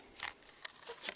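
Scissors snip through red paper for a Thanksgiving turkey card, giving three or four quick, crisp close-up cuts in an uneven rhythm, quiet and with no talking.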